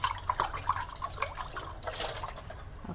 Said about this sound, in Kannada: ಗ್ಲಾಸ್ ಇಟ್ಕೊತೀನಿ, ಕ್ಲೀನಾಗಿ ವಾಶ್ ಮಾಡ್ಕೊತೀನಿ.